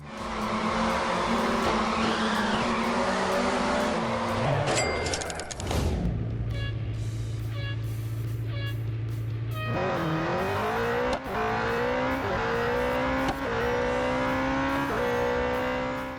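Cars drift in the mobile racing game CarX Drift Racing 2 with loud, continuous engine revs, gear-change drops and swells, and tire squeal, all close and unbroken with no talking.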